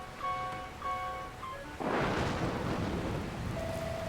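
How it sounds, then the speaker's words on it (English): Rain and a thunderstorm in the video game Dragon Quest Builders 2 break in abruptly as a loud, steady hiss of downpour, after a few seconds of chiming tones, and keep going to the end with no talk. "Where did this rain come from? Ah! You'll have to tell me later, laddie. Looks like there's another storm rolling in."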